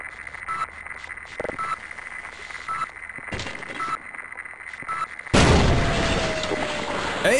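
A grenade detonates in Half-Life, a sudden loud blast that cuts through quiet game ambience and rumbles on, with a debris crackle and a faint rising whine trailing after.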